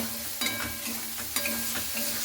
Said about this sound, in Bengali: আলুটাকে দিয়ে 1 মিনিটের মতো একটু ভালো করে নাড়াচাড়া করে নিতে হবে।